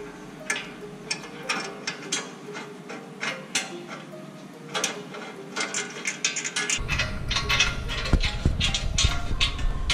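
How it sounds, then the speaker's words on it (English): A ratchet wrench clicks in quick, repeated strokes while tightening a bolt on a Jeep JL fog light bracket, the close mechanical ticking coming in bursts, with a low rumble entering partway through. "We're just going to support this guy and screw this into place."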